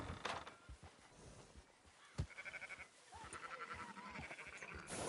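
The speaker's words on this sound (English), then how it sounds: "Fine sheep. They're okay." Sheep in the video game Red Dead Redemption 2 bleat a few times at a ranch, with wavering calls rising over low background rumble and occasional thumps.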